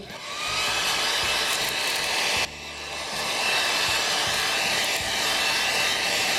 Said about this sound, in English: I'll go and get a heat gun and we'll dry off the last little bit of lighter fluid that's still on the movement.